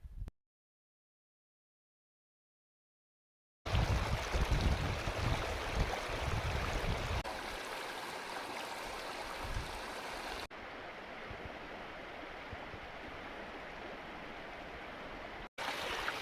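Guyot Creek on the Pacific Crest Trail rushes and babbles steadily over rocks, a constant close flow that drops briefly to silence at the start and once near the end.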